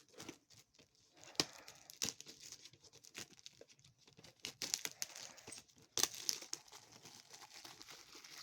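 Sealed plastic wrapping on a VHS tape is torn and crinkled open up close, a quiet run of irregular rips, crackles and crumpling bursts with a few sharper tears, no talking.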